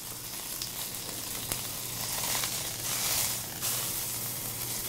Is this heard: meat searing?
yes